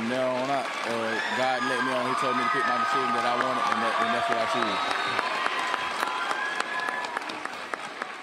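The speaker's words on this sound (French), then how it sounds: "cette technique d'applaudissement totalement inconfortable et douloureuse évidemment" A crowd claps and applauds, dense continuous clapping with sharp hand strikes, while a voice talks loudly over the start.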